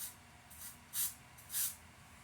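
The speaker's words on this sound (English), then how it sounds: "And I'm spraying it away from me, as you can see." Luminess spray foundation misted from an airbrush in short hissing bursts, two faint puffs followed by two louder, close sprays, with no talking.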